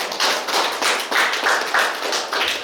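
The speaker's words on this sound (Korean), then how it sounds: "박수 한번 주세요." A small lecture audience claps their hands at a special lecture on food planning, the separate claps standing out in a quick uneven rhythm that stays fairly close and fills the short moment with no talk.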